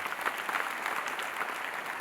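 A church congregation claps loudly together, a full, continuous wash of many hands at moderate distance, steady and unbroken with no talking.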